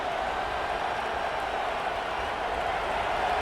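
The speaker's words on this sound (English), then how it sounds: "This crowd trying to make life miserable for this offense." Steady, even roar of a stadium crowd in a college football video game, South Carolina at Texas A&M, a broad wash of noise with no distinct cheers or peaks.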